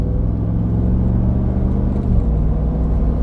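A Jeep Gladiator overlanding truck drives at normal speed with an automatic transmission shifting smoothly, giving a steady, close, low engine and road rumble throughout with a slight shift in tone partway through.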